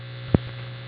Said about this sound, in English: That sound is the OR calling the marker